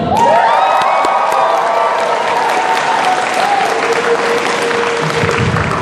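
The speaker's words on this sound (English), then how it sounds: "Applaud again." A convention panel audience bursts into loud applause mixed with cheers and whoops, the dense clapping sustained at full strength for several seconds with scattered shouted voices on top.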